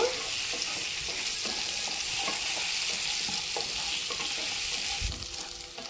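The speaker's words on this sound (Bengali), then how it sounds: "আলুটাও নাড়াচড়া করে ভেজে নেব" Potato pieces frying in hot oil while being stirred give a steady, close sizzle with scraping and clinking from the spoon throughout, easing slightly near the end, with no talking.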